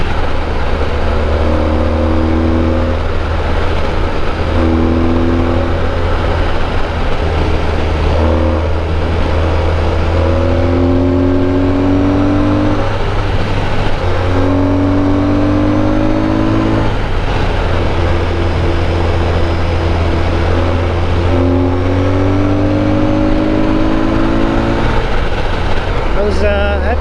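A Honda ST1300 motorcycle ridden fast on backroads, its engine droning steadily with repeated rises in pitch as it accelerates, heard close with constant wind and road noise underneath.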